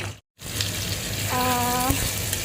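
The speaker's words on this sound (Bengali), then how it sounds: "আমি এখানে এই যে পেঁয়াজটাকে লাল লাল করে নিই" Onions fry in a pan with a continuous bright sizzle, briefly cut to silence near the start, while a short tonal hum and a small knock sound partway through.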